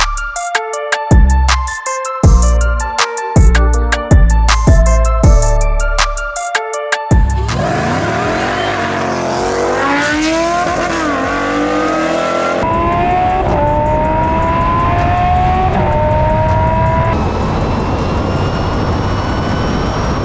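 Stage 4R Jeep Trackhawk and a Lamborghini Huracan racing, engines revving hard with rising pitch sweeps and a loud steady roar after a stretch of rhythmic music at the start.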